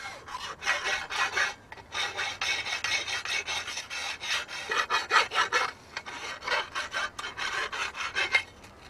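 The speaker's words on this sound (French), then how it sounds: "Un petit coup de lime de temps en temps permet un travail plus aisé." A metal file rasps back and forth against the steel auger of a mole trapper's tool, a steady series of close, scraping strokes with brief pauses between them and no voices.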